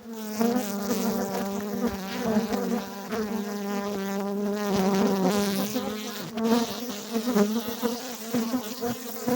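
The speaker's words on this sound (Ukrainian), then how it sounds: "Така обсідка бджіл." Honeybees crowd a hive frame during a spring inspection, their dense, loud, steady buzz close up and continuous, swelling slightly as the swarm shifts.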